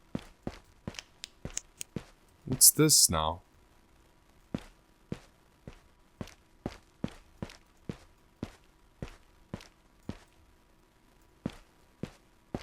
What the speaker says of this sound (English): I'm hearing like footsteps.